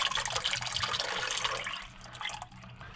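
Water pours and trickles out of an old engine oil filter from a junkyard small-block V8 that sat for 29 years, a close splashing, gurgling stream that thins toward the end, with no voices.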